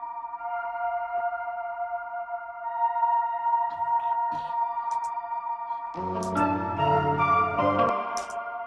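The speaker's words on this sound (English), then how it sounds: "the pads within the background adds a lot of ambience" Soft synth pads hold sustained, ambient chords behind a trap beat melody, quiet and airy at first. A denser layer of melodic and low notes joins partway through and builds up the texture.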